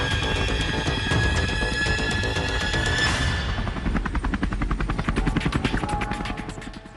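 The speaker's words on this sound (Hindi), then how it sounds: "हिंदुस्तान के स्वदेशी हेलीकॉप्टर LCH ने जब आसमान में पहली उड़ान भरी थी" HAL LCH light combat helicopter flying overhead, a loud continuous rotor and turbine roar that shifts partway through into strong rhythmic blade thumping, with no talk.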